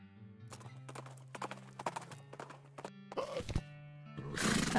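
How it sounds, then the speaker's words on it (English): Rhythmic hoof clops from a horse walking nearby in the video game West of Loathing, steady and distinct, with a burst of rougher noise near the end. "That's a horse."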